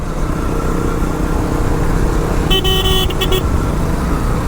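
Heavy road traffic jammed on a bridge rumbles steadily, and near the end a car horn honks in a few short toots over the engine noise.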